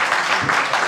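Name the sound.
audience applause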